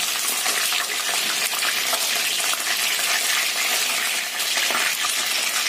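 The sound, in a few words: fish frying in oil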